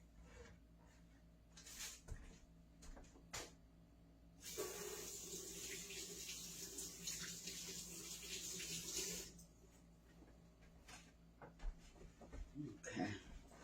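Kitchen tap water runs steadily for about five seconds as vegetables for coleslaw are rinsed under it. Quiet clicks and handling sounds come before and after the close, hissing flow.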